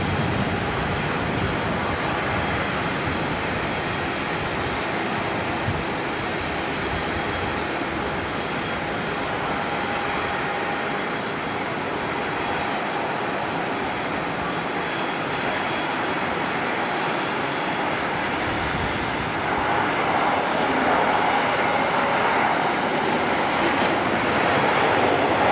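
A jet aircraft from Perth at Auckland Airport produces a steady, broad engine roar heard from a distance, holding even throughout and rising slightly near the end.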